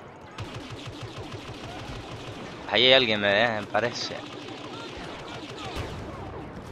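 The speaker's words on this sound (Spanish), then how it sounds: "Lo que son los disparos sí es impresionante, los sonidos." Rapid gunfire crackles steadily in Star Wars Battlefront, with bursts of shots under someone speaking briefly.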